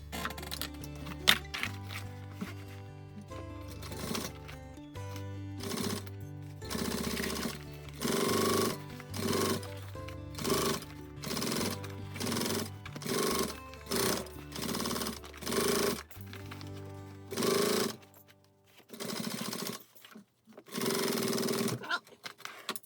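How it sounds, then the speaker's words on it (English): Sewing machine stitching binding onto a fabric pack, running in a long series of loud rhythmic bursts with short pauses between them, close up and with no talking. "let's sew this together now"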